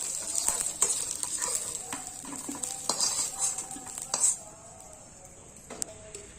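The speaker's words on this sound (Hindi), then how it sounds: "देखा बढ़िया से भुजा के हमारा आलू निकाल ले वो।" Potatoes fry in a pan, a bright sizzle running under repeated scraping and clinking as a utensil stirs them, then the sizzle drops away near the end.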